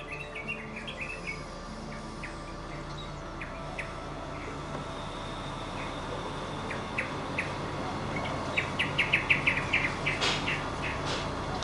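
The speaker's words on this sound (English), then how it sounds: "Oh, the birds singing are so nice." Birds chirp and sing outdoors in steady scattered calls over a soft background hum, with a brighter burst of song toward the end; no one talks.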